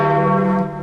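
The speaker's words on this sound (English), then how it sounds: "the bells." Church bells ring out loud and near in a rich sustained chime with long humming overtones, the tone dying away toward the end, with no talking.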